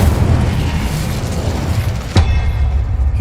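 A fiery blast from the Incendio spell in Hogwarts Legacy rumbles under a steady game soundscape, with a sharp burst near the end that leaves a fading roar.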